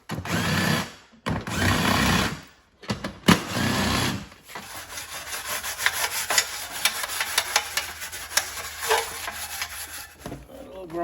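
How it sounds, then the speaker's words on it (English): Mini grinder working on the rusty seat and seat bracket of a John Deere LA165 lawn tractor, a steady close whine with rough grinding texture, broken by short pauses early on, then running continuously with fluctuating load. "I'm just take the mini grinder to that, and then paint her up."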